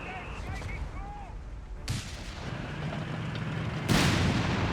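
Heavy booms from a Scott self-propelled gun in Company of Heroes 3, two loud broadband blasts about two seconds apart over a constant battlefield rumble, with distant gunfire and faint voices underneath.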